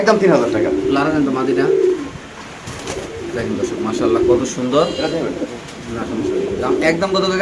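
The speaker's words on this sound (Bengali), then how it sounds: "নতুন কবুতর" Caged pigeons offered for sale coo in low, rolling bursts close by. The cooing repeats through the clip, with people talking over it.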